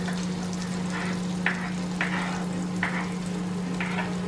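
Garlic sizzles in a hot pan for a creamy cauliflower dish, a steady close frying hiss with a few soft stirring scrapes at intervals and no talking.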